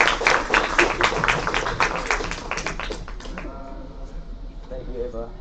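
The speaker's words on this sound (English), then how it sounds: "Let's give him a big round of applause." A room of conference attendees claps for an introduced speaker, busy overlapping applause that tapers off and thins into scattered claps and faint voices near the end.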